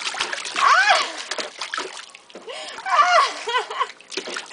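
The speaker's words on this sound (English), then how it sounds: "Splash, splash, splash, splash." A child splashes water in a bath, with repeated loud, close splashes and sloshing in two bursts while an adult voice talks over them.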